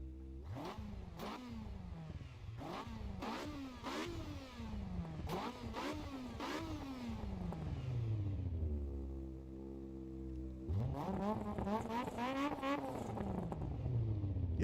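Toyota AE86 engine in Assetto Corsa EVO, slightly tuned, revving repeatedly with throttle-body and air-filter intake noise: a series of sharp rises and drops in pitch, then a long held note and a final climbing rev, loud and close.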